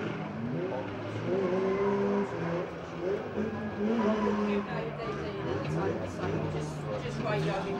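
Banger racing cars circling a track at Mildenhall Unlimited Banger Racing Supreme, engines droning and revving steadily at mid-distance under continuous commentary.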